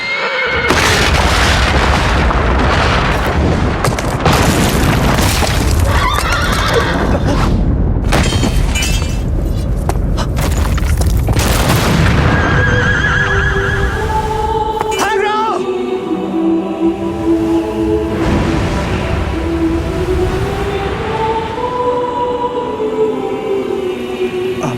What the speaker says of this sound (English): All that's left for you is to hope your janky horse can clear this jump.